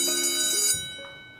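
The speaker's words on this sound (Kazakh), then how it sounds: "Апай, қоңырау болды." A school bell rings with a bright metallic tone that sustains, then fades away over about a second.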